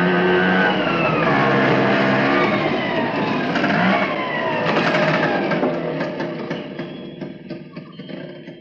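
An auto rickshaw's engine revs and pulls away, a steady buzzing drone that rises in pitch and then fades as it moves off, with no voices over it.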